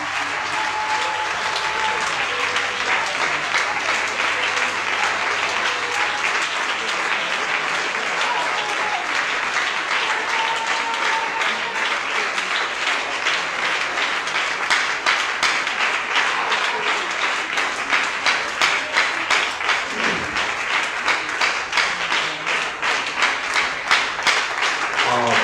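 A church congregation at a Sunday service applauds steadily for about twenty-five seconds, dense sustained clapping that grows slightly more rhythmic and pulsing toward the end, with faint voices underneath.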